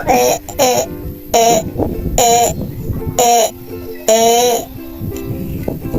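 A goat bleats loudly several times in drawn-out, wavering cries close by, with background noise between the calls.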